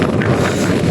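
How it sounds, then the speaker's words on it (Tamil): A chilly wind blusters across a hilltop high on Kondrangi hill, a loud, close roar of gusts buffeting the microphone, with no voices. "காற்று சில்லுன்னு வருதுங்க."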